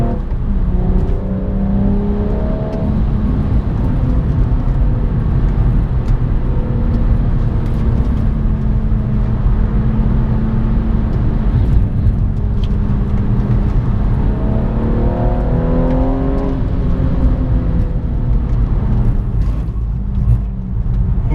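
A BMW M135i drives on the Nurburgring circuit, its engine droning loudly and steadily throughout, with rising revs and gear-change sweeps near the start and again toward the end, close and continuous.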